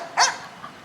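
A single short, sharp bark from a dog at an animal shelter rings out close by, followed by a faint low trailing sound, with no talking.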